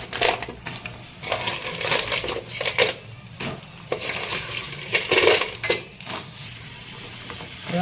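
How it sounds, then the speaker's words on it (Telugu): Crabs tipped into fried paste in a pan and stirred, giving repeated clattering scrapes and knocks of a utensil against the pan over a steady sizzle, close and fairly loud. "ఇప్పుడు దీంట్లో మనము పీతలు వేసేసుకున్నాం."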